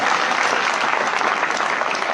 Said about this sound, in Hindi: तो इस लाडले के लिए एक बार जोरदार तालियां होनी चाहिए।